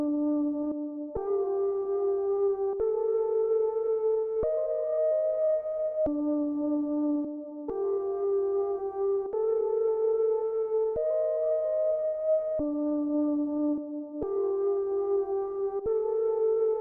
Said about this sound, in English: I'm actually going to add a gross beat onto this Omnisphere.